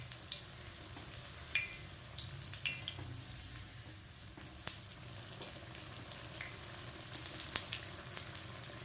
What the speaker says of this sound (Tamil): நீங்கள் மீடியம் ஃப்ளேம்லேயே வச்சு இந்த போண்டாவை பொரிக்கணும்